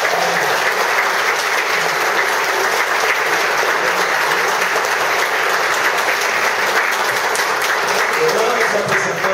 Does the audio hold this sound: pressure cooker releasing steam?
no